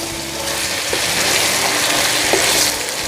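Cut chicken pieces sizzling in hot oil in a pan while being stirred, a steady loud crackling fry with occasional scraping from the stirring, close up with no talk.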